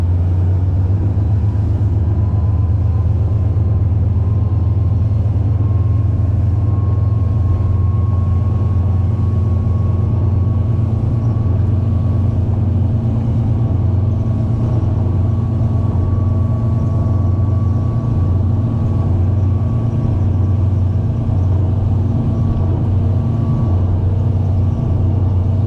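Motorboat engine running steadily at high speed, around 32 knots and 3,500 RPM, a loud continuous low drone with constant hum throughout, no talk.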